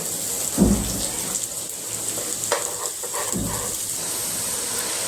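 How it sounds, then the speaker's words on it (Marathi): Coriander and potato vadi shallow-fry in hot oil with a steady, close sizzle, while a spoon flips the pieces with a few light clinks and scrapes against the pan. "आता आपण या चमच्याच्या साह्याने अशा उलट्या करून देऊया म्हणजे दोन्ही साईड छान अशा चांगल्या खरपूस भाजून निघते"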